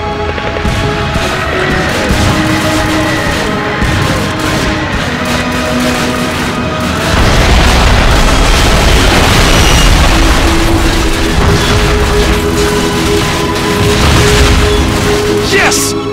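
Artillery shells from Call of Duty pound a German armored column, sending heavy booms and rolling blasts over a dense wall of battlefield noise that surges louder midway and stays loud.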